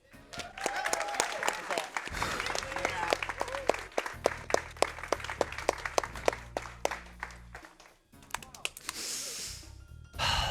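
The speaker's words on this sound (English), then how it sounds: "Give them a round of applause as well." Sharp, spaced audience claps at a speedrun event ring out over a low humming tone, followed by a short burst of noisy crowd sound at the end.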